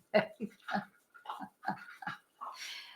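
A dog whimpers and breathes in short, close vocal bursts, several in quick succession, ending with a higher, airy whine.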